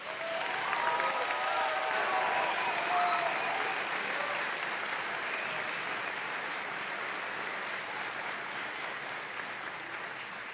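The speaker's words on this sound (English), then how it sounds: "Please give a massive round of applause for Nikola Govich" A large crowd claps steadily for the valedictorian at a high school commencement ceremony. The dense applause stays sustained and even throughout, easing slightly toward the end.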